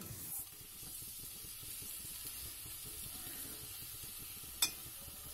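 Rice and lentils added to a pot of bhoger khichuri over a very low gas flame, giving a soft, steady sizzle with faint stirring scrapes and one brief sharp tick near the end, no talking.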